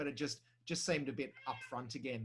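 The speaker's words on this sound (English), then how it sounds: "I was saying, that's my cat" A pet cat meows repeatedly in the background of an indoor setting while a person speaks over it, the mews short and close.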